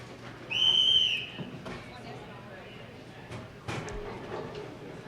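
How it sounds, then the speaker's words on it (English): A referee's whistle blows once at a bowling tournament, the 2015 QubicaAMF World Cup, a clear shrill tone lasting about half a second amid arena murmur, followed by faint clatter and talk. "Whistle just blew"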